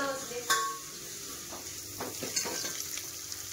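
Tempering (phodni) sizzles in a pan, a steady, moderately close crackle with a few sharp clinks and stirring scrapes of a utensil and no talk.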